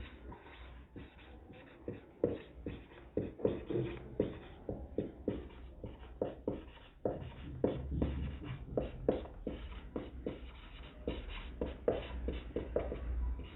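Pen strokes scratch on paper while a chemistry problem on solutions is written out, a faint, close run of short scribbles and taps that comes in uneven bursts, with no talking.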